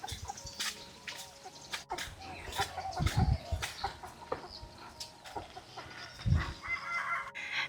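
Chickens on an overcast day give out repeated short clucks and calls, some close and loud in bursts, over a background of faint ambient noise.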